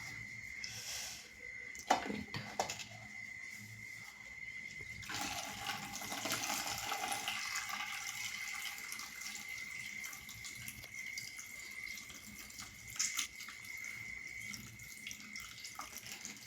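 Water drains from freshly made paneer, running and trickling steadily for several seconds, with a few soft clinks and splashes, fairly quiet and close.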